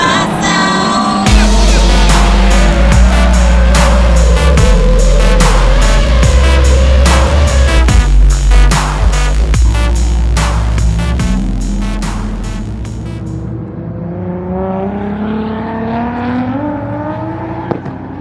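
A car with a Nissan SR32 engine revs hard and drives loud and close, with repeated rising and falling revs and rapid changes, then settles into a lower, fading drone as it moves off; no voices.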